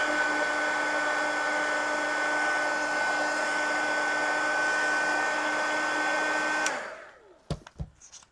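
A heat tool blows hot air to dry paint on a collage page, a loud steady whirring drone with a fixed hum that cuts off near the end, followed by a few handling knocks.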